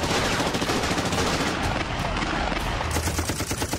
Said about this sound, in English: The terrorists opened fire on the guards outside the building.